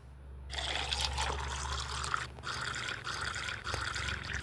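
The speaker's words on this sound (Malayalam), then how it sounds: "ഇനി നമുക്കിതിലേക്ക് വെള്ളം നിറയ്ക്കാം" Water poured steadily into a vessel with cloth tied over its mouth, a continuous close splashing trickle lasting several seconds after a brief silence.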